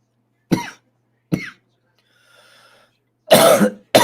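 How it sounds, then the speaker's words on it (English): Several sharp, close coughs separated by pauses, with a faint breathy sound between them. "I do got a little bit of a cough"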